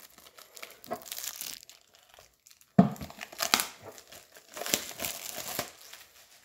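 A knife slits and tears open the packaging around a book, with crinkling plastic and papery tearing in short, close bursts separated by brief pauses.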